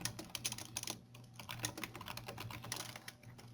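Rapid computer keyboard typing while entering PHP code, a continuous run of close, crisp key clicks with irregular rhythm and no talking.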